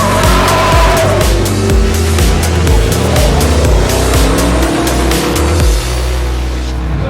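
1,000-horsepower trophy trucks launching off the start line of a Baja desert race, a loud, close, continuous engine roar with rising revs and gear changes.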